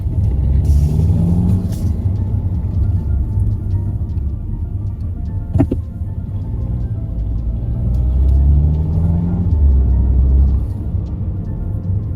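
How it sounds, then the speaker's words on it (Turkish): A car on a mountain road in the Italian Dolomites approaches and passes from the opposite direction, a rising and falling rumble heard over the low steady drone of the recording vehicle, with a sharp click midway and no speech. "Karşıdan bir araba geldi."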